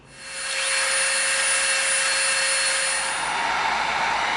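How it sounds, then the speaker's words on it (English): A Dremel rotary tool rounds off the edges of EVA foam rivets, a steady high-pitched whine that ramps up at the start and holds loud and continuous throughout, with no talking. "while we have our Dremel out and our dust mask on, we're gonna round off these 4 rivets"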